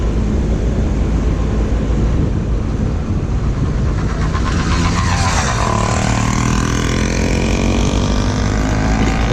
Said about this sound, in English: That's a motorcycle if I ever heard one.